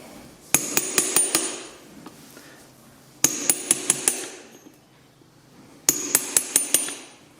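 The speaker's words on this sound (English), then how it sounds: "bend the nail over a bit, cut off the excess" A farrier hammers nails into a horseshoe while clinching them over, making three bursts of five or six sharp metallic strikes each, close and ringing, with quiet pauses between the bursts.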